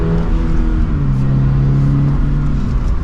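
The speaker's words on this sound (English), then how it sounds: "we can give it a little bit more gas" A Toyota GR86 engine accelerates steadily under added throttle, its rising drone and harmonics loud and continuous from the cabin for a few seconds, with no talking.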